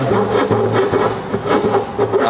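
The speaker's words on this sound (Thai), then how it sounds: "นี่ฮะแล้วก็เลื่อยไปตามรอย" A hand coping saw cuts a circle in a ceiling board, with close, loud rasping back-and-forth strokes in a steady rhythm of roughly two strokes per second.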